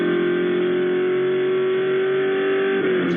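A race car, a red and white Mustang in an endurance race, drives through a chicane at Charlotte. Its engine holds a loud, steady, close drone with no voices.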